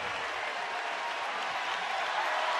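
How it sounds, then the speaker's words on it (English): A basketball arena crowd at an Auburn home game applauds in a dense, even wash of clapping that holds at the same level throughout. "And the crowd responds."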